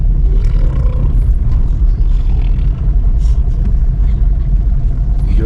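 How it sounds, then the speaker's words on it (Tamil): Vehicle driving close by on a forest hill road, a loud steady low engine rumble with wind buffeting throughout. "இங்கே ஒருத்த வண்டி ஓட்டிட்டு இருக்காங்க"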